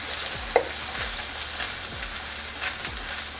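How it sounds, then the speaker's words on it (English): Fried rice with soy sauce sizzles loudly and steadily in a hot pan while a spoon stirs and scrapes it in repeated strokes, close up and with no talking. "And then we're gonna add in our soy sauce. And then just mix everything together."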